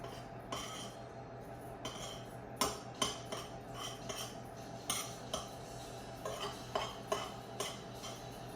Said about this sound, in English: Your baking powder and your cinnamon, and you're just going to stir.